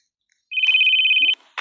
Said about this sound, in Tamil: யார் ஃபோன் அடிக்கிறா?